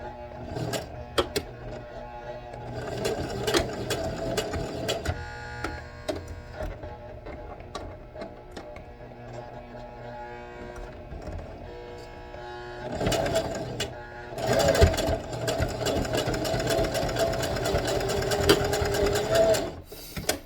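A domestic sewing machine runs while Christmas gifts are stitched, with rapid mechanical clatter in bursts and pauses, growing louder and busier toward the end. No one speaks.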